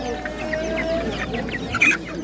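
Chickens, including crested ornamental crossbreeds, cluck and chatter softly in a close, busy flock at a poultry market in Kırıkkale, Turkey, with a few higher squawks near the end.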